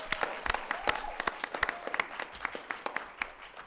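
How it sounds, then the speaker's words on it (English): Dense applause from an audience at a neighborhood awards event, many hands clapping in a busy, crackling wash with sharp individual claps standing out, sustained and fairly even throughout. "so let's give her an extra round of applause."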